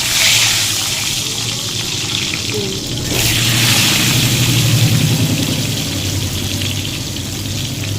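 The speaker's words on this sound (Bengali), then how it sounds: "প্রথমে ডিমটা ভেজে নেব কড়াতে তেল দিয়ে দিয়েছি তেল গরম হয়ে গেছে" An egg fries in hot oil in a wok with a continuous loud sizzling hiss throughout, broken by a few faint clinks.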